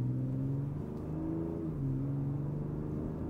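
A Ford Ranger Raptor pickup with a twin-turbo V6 driving in normal mode, heard from inside as a steady low engine drone with slight pitch rises and dips, fairly quiet and continuous.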